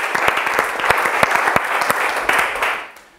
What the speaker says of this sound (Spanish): Un aplauso para Cristo y para él.